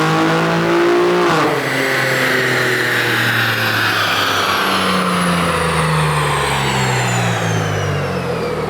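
BMW G87 M2 engine revving hard on a dyno during a tuning run, one loud sustained pull with the pitch climbing steadily over several seconds, close and continuous with no talking.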